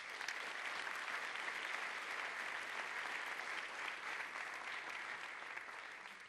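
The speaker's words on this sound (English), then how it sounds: "How about giving them a round of applause?" Audience applause at an awards event honoring student nominees, a steady, dense wash of clapping sustained throughout, moderately distant and without speech.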